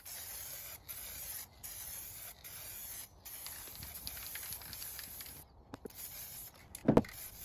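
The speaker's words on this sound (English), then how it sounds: "I ended up using some satin spray lacquer instead" Satin spray lacquer sprayed from an aerosol can onto a wooden table, heard as a close, steady hiss in repeated bursts with brief gaps between passes and a sharp knock near the end.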